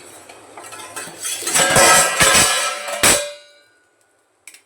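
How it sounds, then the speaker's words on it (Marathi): A metal lid lifted off a cooking pot on a gas stove, a loud ringing clatter and scrape of metal on metal that fades out, followed by a brief faint clink. "आता मी जरासा गॅस फास्ट केला आहे झाकण काढते"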